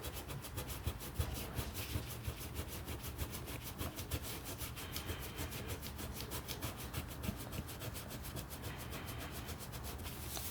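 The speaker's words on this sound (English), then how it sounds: "Let's see how this eraser works." An eraser rubs back and forth over a pencil drawing on paper, making a soft rhythmic scratchy scrubbing that repeats quickly and evenly, close and quiet, with no talking.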